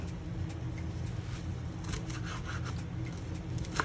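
A knife chops fresh parsley on a cutting board in quick, light taps over a low background hum. No one speaks.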